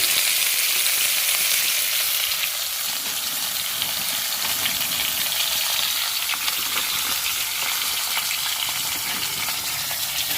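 Pointed gourd (potol) frying in plenty of oil in a home kitchen, a steady bright sizzle with soft bubbling that carries on evenly for about ten seconds with no voices.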